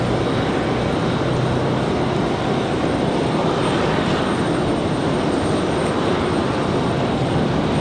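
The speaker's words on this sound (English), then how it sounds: "Lufthansa's firing up a little bit" Lufthansa jet engines firing up at Raleigh-Durham airport, a loud steady broadband roar with a faint high whine, unbroken and fairly close throughout.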